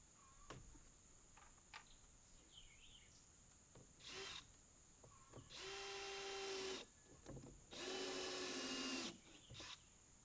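A power drill drives screws into wooden board-and-batten siding in several short bursts, the last two longer and louder with a steady whine, separated by quiet pauses and faint handling clatter.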